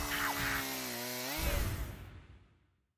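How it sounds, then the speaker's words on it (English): In a video game, a drill's motor whines in a steady rising pitch, then grinds harshly through a coffin before winding down into silence. "A drill went through the coffin."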